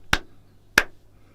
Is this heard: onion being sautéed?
no